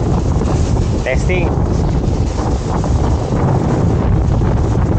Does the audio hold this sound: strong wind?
yes